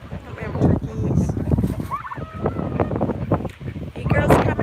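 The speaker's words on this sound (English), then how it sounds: "Come here, turkeys." Turkeys gobbling on a rural South Dakota farm in the morning, several bursts of rapid gobbles and clucks from nearby birds, mixed with wind noise and a person calling to them.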